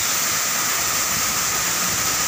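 The Lembah Anai waterfall roars as a constant, loud, broadband rush of falling water, steady and close with no voices over it.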